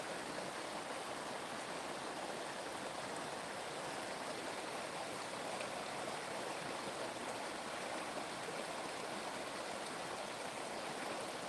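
Creek water in a park flows steadily, a continuous broadband rushing and babbling that stays even and fairly close throughout, with no voices.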